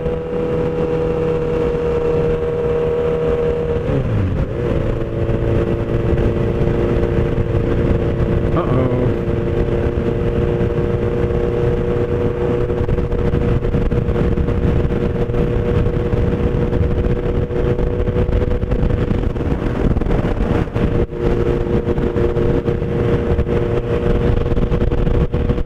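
A motorcycle rides along a road with a steady engine drone and wind noise, revving up briefly as it lifts into a wheelie and then settles back into cruising.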